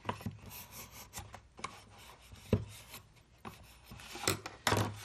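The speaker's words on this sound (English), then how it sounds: "Take my bone folder to burnish right in there." A bone folder burnishes a folded paper edge pressed into a corner, giving soft, close scraping rubs in short irregular strokes with brief louder swipes and no talking.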